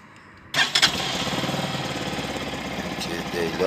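A GP2 200cc motorcycle engine cranks and catches after a moment of quiet, then settles into a loud, steady rumbling idle nearby.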